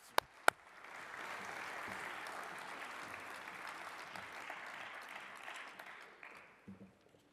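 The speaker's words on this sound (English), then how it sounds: "Another round of applause for Colin, Chef Colin." Applause from a seated audience at a wild food preservation talk, a sustained even patter of many hands heard from a distance and fairly faint, after a couple of sharp knocks and before a few trailing claps.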